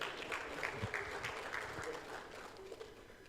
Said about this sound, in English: Please, can we clap for the chairman of NAIP?